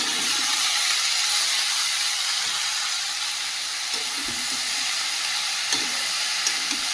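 Mixed vegetables with potato, okra, snake gourd and Malabar spinach sautéing in a pan, a steady broad sizzle and hiss with a few soft stirring scrapes, close and continuous with no voices.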